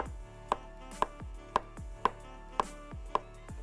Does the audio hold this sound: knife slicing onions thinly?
yes